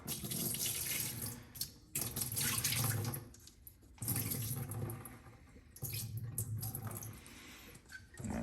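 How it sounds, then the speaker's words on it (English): Tap water runs into a bowl of beef being rinsed, a steady splashing, gurgling stream in three bursts with short pauses between them as the bowl fills and is drained. "just rinse it out a couple of times here"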